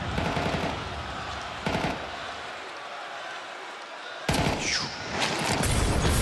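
Counter-Strike gunfire crackles in bursts during a FURIA vs NAVI quarterfinal match at the StarLadder Budapest Major, with rapid volleys at the start, a lull, then renewed heavy firing over arena noise and a commentator's voice.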